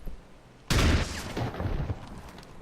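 Gunfire in XCOM 2 during an overwatch ambush: after a quiet lull, a sudden loud burst of shots erupts, followed by a rattling volley of further rapid shots that trail off, with no talking.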